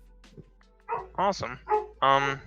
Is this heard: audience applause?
no